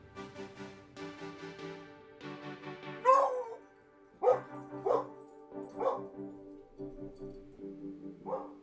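A dog barks several times in short, sharp bursts, close by, with softer whimpering yips between, over a quiet backdrop with music playing.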